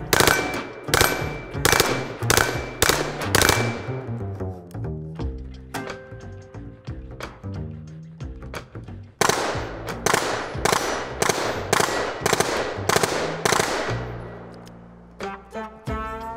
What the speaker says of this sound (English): before we jump to the 16-inch machine gun